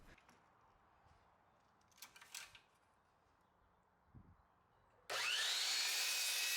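A miter saw cuts wood pieces for a chevron-pattern address sign: faint quiet handling and a couple of brief rubs, then the saw bursts in loud and close, a sustained high whine with cutting noise through the final second and a half.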